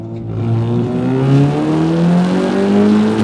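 A 400 bhp Audi S3 accelerating hard on back roads, its exhaust loud and close with a steadily climbing engine note through the gear, heard alone.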